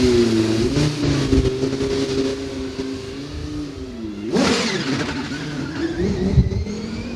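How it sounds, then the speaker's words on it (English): A race car engine at Knockhill Racing Circuit roars loudly and close, its pitch sliding steadily and then surging sharply in a hard acceleration sweep near the end, a continuous wall of sound. "you can hear the noise. It's fantastic noise that car makes"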